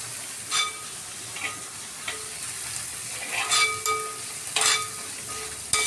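Onions sauté in a pan for a mackerel fish curry with a soft, continuous sizzle, broken by occasional scraping stirs and light clinks of a utensil against the pan.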